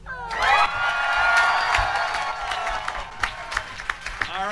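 An audience at a live voice-acting reading bursts into loud applause and cheering, with whoops and shouts over steady clapping that thins out into scattered claps toward the end.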